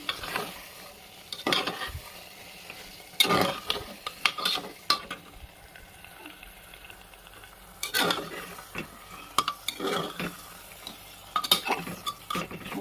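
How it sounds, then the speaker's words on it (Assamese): Meat, goat for a curry, sizzles gently in a pan while a spoon scrapes and clanks against the metal in irregular bursts, close by, with quieter frying hiss between the stirring strokes and no talking. "মই ভালদৰে মাংসটো লৰাই দিলোঁ।"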